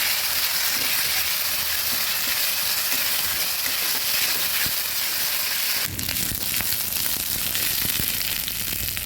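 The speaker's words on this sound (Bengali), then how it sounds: "সব কিছু সুন্দরভাবে ভেজে নেব।" Ingredients for a hilsa fish head curry fry loudly and continuously in a pan, a dense hissing sizzle that shifts abruptly near the end as something is added or stirred, with no voices.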